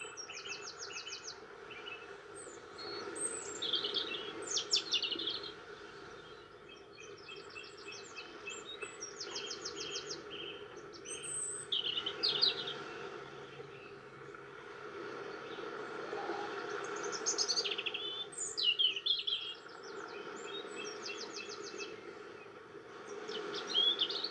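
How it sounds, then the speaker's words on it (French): Birds chirp and trill in quick repeated bursts over a soft, steady wash of sea waves rolling in the background. "Concentrez-vous sur le bruit des vagues et des oiseaux."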